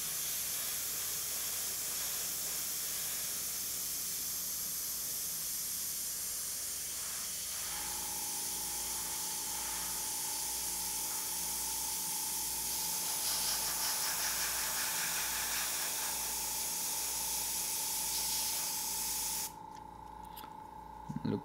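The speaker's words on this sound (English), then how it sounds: "And now you can just spray comfortably." Continuous airbrush hiss sprays steadily and close; a low mechanical hum joins partway through, and the spray cuts off near the end.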